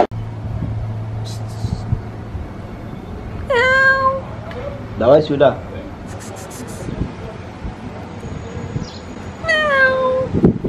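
A domestic cat in a hotel room meows several times, with clear rising harmonic cries spread across the clip, mixed with people talking nearby and some low background hum.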